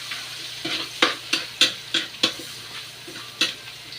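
Garlic and ginger sautéing in a hot pan for dinuguan, a continuous sizzle broken by a series of sharp utensil scrapes and clinks against the pan, close and fairly loud, with no talk.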